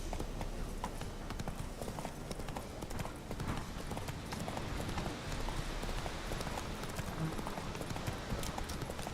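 Horse hooves gallop in a fast, steady clip-clop rhythm through the whole stretch in The Witcher 3, loud and continuous against a dense outdoor game soundscape.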